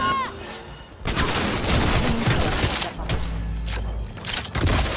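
Gunfire in the video game Cyberpunk 2077, a loud, dense burst of shots that fills most of the clip after an opening electronic tone, with faint voices mixed in.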